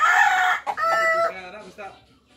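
A black rooster crows nearby, a strong opening cry breaking into a ragged, fading tail.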